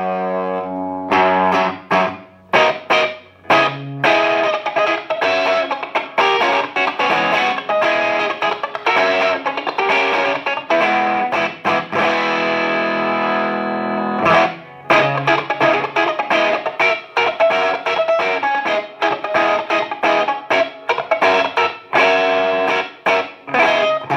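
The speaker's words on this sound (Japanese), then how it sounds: "普通にいいクランチが出るっていうのがあって" Electric guitar run through an EarthQuaker Devices Life Pedal V2 set for crunch, playing strummed chords and riffs with a gritty, saturated tone, loud and continuous with brief gaps.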